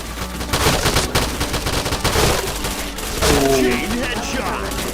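Rapid bursts of gunfire and single shots ring out in a first-person shooter firefight, dense and continuous across the clip with sharp impacts layered throughout.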